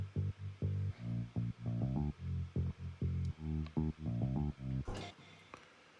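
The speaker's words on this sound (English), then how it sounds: "Next is this guitar bass." A plucked guitar-style bass line for a tropical house track plays a bouncy, syncopated run of short notes, loud and close, with no talking over it.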